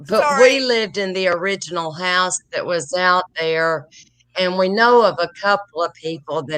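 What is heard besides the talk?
No distinct noise like a dog, phone or traffic.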